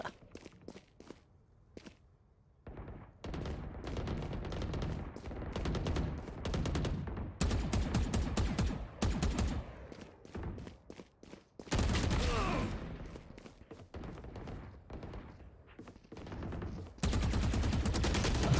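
Video game gunfire, bursts of rapid shots and heavier blasts come in clustered volleys between quieter stretches of footsteps and movement, with the loudest sustained barrages toward the middle and end.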